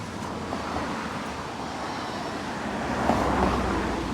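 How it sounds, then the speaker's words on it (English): A Bentley car passes on a busy Sydney street during the evening peak, a steady mid-distance engine and tyre rush over traffic noise that swells slightly toward the end. "What was it, a Bentley?"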